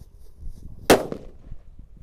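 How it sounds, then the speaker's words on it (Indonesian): A red disco labrador firecracker set off in a hole in the ground explodes in one sharp, loud bang followed by a brief echo, against faint outdoor background noise. "Lanjut di sini ada mercon disco labrador warna merah guys, happy flower. Kita nyalakan di lubang tanah."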